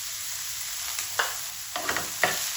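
Okra and onion frying with salt and red chili crackle in a steady sizzle, broken by several quick scraping stirs of a spoon through the pan, close and clear with no voices.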